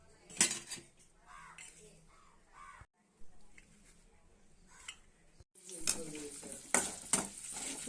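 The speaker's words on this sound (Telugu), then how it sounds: "ఇవన్నీ చూడండి తాలింపులు ఎండుమిర్చి పచ్చిమిర్చి పల్లీలు తాలింపులు ఇవన్నీ బాగా వేయించుకోవాలి మాడిపోకుండా వేయించుకోవాలి" Dried red chillies, green chillies, curry leaves and peanuts frying in hot oil as tempering for lemon rice, crackling and sizzling close by while a spoon stirs and scrapes the pan, growing louder toward the end, under occasional talk.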